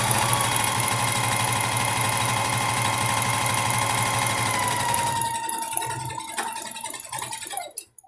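A sewing machine reverse stitches a patchwork quilt square, its steady, close motor hum running for about five seconds before stopping, followed by faint handling clicks and rustle.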